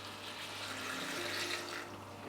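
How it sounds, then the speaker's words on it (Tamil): Water added to an automatic soup maker, with a soft continuous splashing and trickling over a low steady hum, faint and without talk. "தேவையான அளவு தண்ணி சேர்த்துக்கோங்க"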